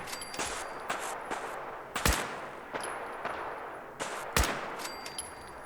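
Gunners are shot at in Fallout 4, with scattered single gunshots cracking at irregular intervals, two of them louder and sharper, over a steady background ambience with no talking.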